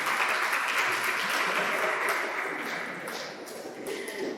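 Steady applause from a school quiz competition audience in Odienné, Ivory Coast, dense clapping that holds for several seconds and fades slightly before swelling again.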